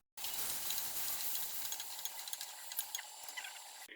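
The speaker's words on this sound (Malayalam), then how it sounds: "ഗ്യാസ് ഞാൻ ലോ ലോ ഫ്ലെയിമിലാണ് വെച്ചിരിക്കുന്നത് പതുക്കെ പതുക്കെ ഇത് വഴറ്റിയെടുക്കണം" Tomato and onion sautéing in a pan on low flame, a steady soft sizzle and hiss with light scattered crackles and stirring ticks, close and fairly quiet, no talking.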